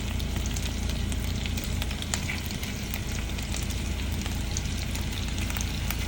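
Lamb meatballs fry in a pan of plenty of oil with a dense, steady sizzle and crackle that runs unbroken and close throughout, with faint scrapes of a utensil now and then.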